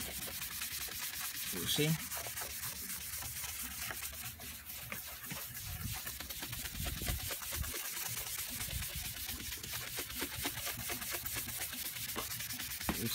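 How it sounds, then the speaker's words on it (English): Colgate toothpaste is rubbed onto a car headlight by hand, giving a continuous close, soft scrubbing and rasping sound with a brief spoken word near the start. "I put toothpaste, Colgate toothpaste here, and I'm just rubbing up."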